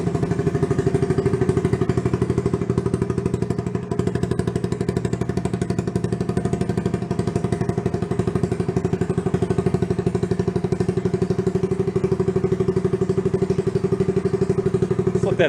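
A Honda Trail 90 barn-find motorcycle idles steadily, its small engine thrumming in a constant, even, rapid chug with a slight mechanical clatter, close and loud throughout.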